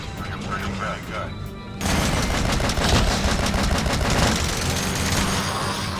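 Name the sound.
anti-materiel rifle gunfire in Metal Gear Solid V video game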